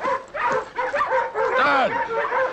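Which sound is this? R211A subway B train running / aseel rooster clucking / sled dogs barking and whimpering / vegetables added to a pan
sled dogs barking and whimpering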